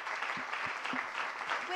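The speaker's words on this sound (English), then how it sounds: "I want to make a round of applause and thank you for your support" Audience applause at a closing session of an event, a steady wash of clapping throughout, with a voice speaking over it.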